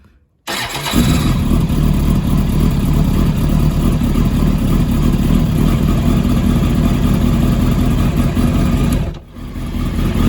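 A 2007 Kawasaki ZX10R motorcycle engine fires up after a brief crank and settles into a loud, steady idle close by, dipping briefly near the end before picking back up.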